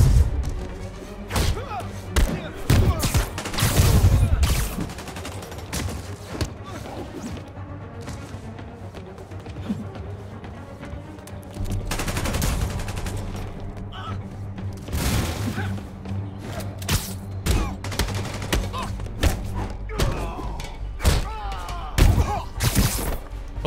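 Combat in Spider-Man Remastered, with irregular heavy thuds, crashes and sharp bursts that sound like enemy gunfire and impacts, some clustered and some isolated, over an active game soundscape.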